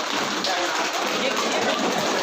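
A large crowd imitates heavy rainfall together, producing a loud, steady hiss like a downpour that holds evenly throughout without pauses.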